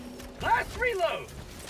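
A short mechanical weapon reload in Helldivers 2: a pair of metallic clicks and slides over quiet background hum, close and crisp.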